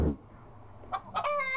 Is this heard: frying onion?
no